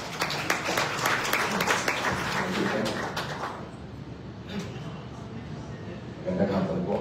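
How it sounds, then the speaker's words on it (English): At a Philippine Senate event honoring a keynote speaker, an audience breaks into applause that runs loud for a few seconds, then thins to scattered claps as voices begin talking over the room. "Let's give him a big round of applause."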